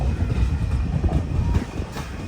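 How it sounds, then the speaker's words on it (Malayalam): Rolling train noise from on board the Kacheguda Murdeshwar Express nearing Bhatkal station: a continuous low rumble with faint wheel clatter and occasional light metallic squeal, steady and close, no voices. "ട്രെയിൻ ഇതാ ബത്കൽ റെയിൽവേ സ്റ്റേഷനിലേക്ക് എത്തിക്കൊണ്ടിരിക്കുകയാണ്."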